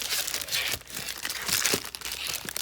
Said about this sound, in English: And I also decided to upgrade to these thicker envelopes.